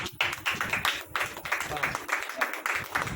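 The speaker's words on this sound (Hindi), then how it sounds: "ताली बजाओ।" Audience clapping hands at a religious gathering, a burst of sharp, fairly close claps in an irregular rhythm that start abruptly and continue steadily.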